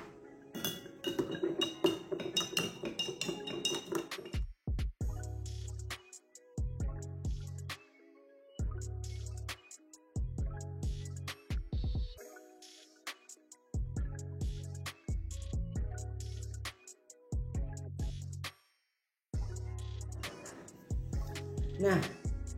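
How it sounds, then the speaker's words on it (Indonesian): A spoon clinks against the sides of two glasses of detergent and citron solution being stirred slowly in a school lab, with repeated bright rhythmic tinkling in bursts separated by short pauses, close and fairly quiet. "Kemudian kita akan aduk perlahan kedua gelas ini"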